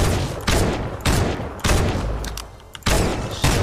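Fortnite squad battle royale gunfire: loud, close shots coming in rapid bursts about every half second, dense and nearly continuous across a few seconds, with no talk over them.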